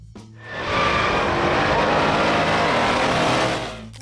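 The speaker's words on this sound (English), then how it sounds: "At the core roared the 426 cubic inch Hemi V8 engine" A 1970 Plymouth Roadrunner with a 426 cubic inch Hemi V8 roars loudly and steadily, a dense broadband rumble that swells in within half a second, holds for about three seconds, then fades away.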